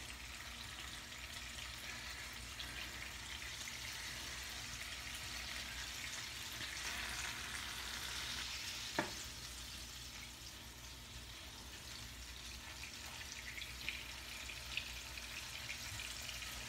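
Salmon patties fry in a pan with a soft, steady sizzling hiss heard up close but quietly, broken by a single sharp tick partway through.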